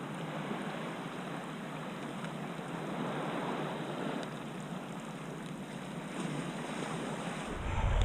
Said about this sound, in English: these are just such gentle rollers, it's hard to even see where the wave is